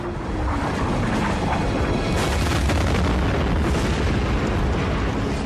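Asteroid impact explosion in a documentary: a loud, sustained rumbling roar that fills the whole stretch without letting up.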